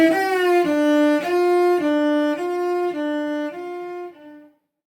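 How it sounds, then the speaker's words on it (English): Synthesized fire engine siren: a steady, buzzy electronic tone in a run of short, even segments with slight pitch shifts between them, loud and close, trailing off at the end. "making a sound like a siren from a fire engine"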